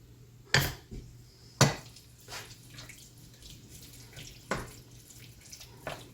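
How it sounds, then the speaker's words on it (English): Cilantro stirred into a pot of chili, heard as a few sharp clanks of a spoon against the pot at irregular intervals over a quiet background with a low hum and no talking. "Now we're going to stir it in."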